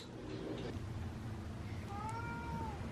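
A cat meows once, a short rising-falling cry, over a steady background hum with faint voices.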